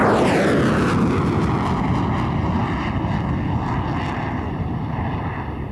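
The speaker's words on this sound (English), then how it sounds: "in 1993 they contributed this Super Etendard for the flying display" A loud Super Etendard jet roars past in an air show flying display, its engine noise sweeping downward in pitch as it passes and recedes, with a steady rushing drone throughout.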